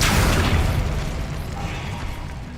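Fiery burst from an Incendio fire spell in Hogwarts Legacy, a loud rumbling whoosh with heavy low boom that fades gradually over a couple of seconds, standing alone without talk.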